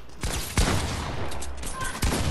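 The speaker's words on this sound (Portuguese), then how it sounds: "tá dando tiro na Alessandra" Rapid bursts of gunfire from a video game shooter match, several loud volleys cracking close by in quick succession over a steady background of game ambience.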